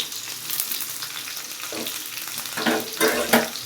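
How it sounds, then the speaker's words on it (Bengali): Onion and green chili sizzle in hot oil in a pan for a chicken curry, a short close burst of frying with a few louder clattering stirs toward the end. "একই সাথে ভেজে নেব।"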